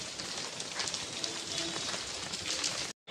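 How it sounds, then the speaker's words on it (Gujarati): Steady rain falls in Jasdan, a dense, even hiss of drops close by with no letup, cutting off abruptly into a brief silence near the end. "વરસાદ ચાલુ છે જસદણમાં"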